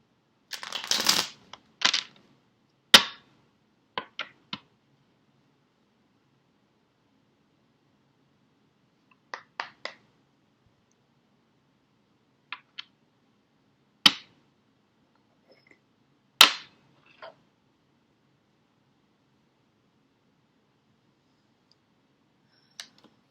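Tarot cards being shuffled in a quiet room, a quick run of riffling at the start followed by scattered sharp single card snaps and taps spaced several seconds apart, close and crisp against silence.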